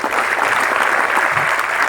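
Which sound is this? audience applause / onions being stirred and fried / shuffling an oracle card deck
audience applause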